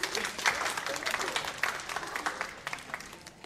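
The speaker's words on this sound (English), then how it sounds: "So give yourselves a round of applause for that" Audience at a high school gathering breaking into applause, a dense, moderately loud patter of clapping that carries on throughout and slowly tapers.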